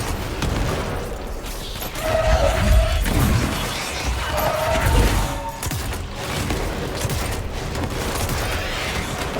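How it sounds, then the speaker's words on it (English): Gunfire rattles through a combat-heavy area in the video game Control, with dense overlapping shots, crashes and low booming impacts swelling and fading over a constant noisy background. "it's like a freaking shooting gallery in here"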